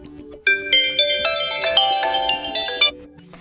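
A bright electronic alarm ringtone melody on a Realme GT Neo 3T phone plays alone, a quick sequence of rising chiming notes lasting a few seconds, then fades out.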